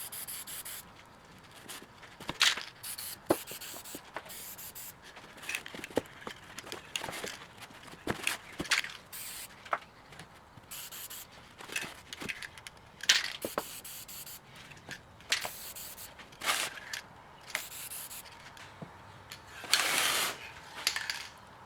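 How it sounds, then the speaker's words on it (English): Repeated short hisses of an aerosol spray can in bursts, sprayed around the bark edges of a wood slice, with faint rubbing and handling sounds between sprays, close by. "I'm going to spray all around the edges here of the bark to protect it"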